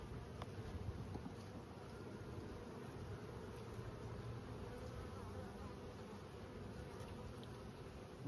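Honeybees from a big, strong open hive colony during an inspection with smoke give a dense, steady buzz up close, unbroken throughout with no talking.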